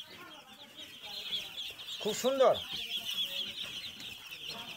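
Chickens cluck at a poultry farm in Muktagacha, Mymensingh, a soft, fairly distant murmur of fowl with one louder burst partway through, while a person speaks briefly.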